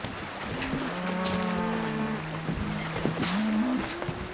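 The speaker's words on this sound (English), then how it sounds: "Can't you hear those cattle bellowing?" Cattle bellowing aboard a ship in a period naval drama, several long drawn-out moos rising and falling over one another, loud and close against a murky background.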